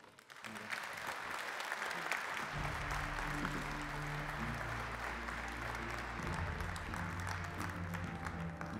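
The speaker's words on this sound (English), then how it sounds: "Please give them a big applause." An audience at the opening keynote of an FTTH Council conference breaks into steady, full applause that carries on at an even level, with an underlying hum joining partway through.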